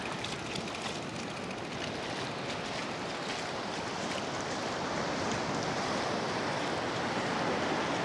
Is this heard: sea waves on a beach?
yes